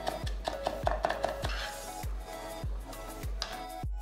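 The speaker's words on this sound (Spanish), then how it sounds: "lo que queda ají limo también vamos a comenzar a picar. Vamos a hacer un corte cuadradito." A knife chopping aji limo chili peppers into small squares on a cutting board, with steady sharp thuds repeating about every half second, close and alone.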